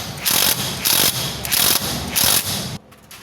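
A ratchet tightens the castle clutch nut on a Honda Supremo motorcycle during a clutch lining replacement: four or five loud, rhythmic bursts of fast clicking, close up, stopping abruptly near the end.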